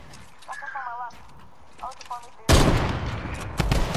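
Loud bursts of gunfire fired at a turret in a video game, starting abruptly after a few quiet moments and continuing in rapid volleys, with players talking before and during.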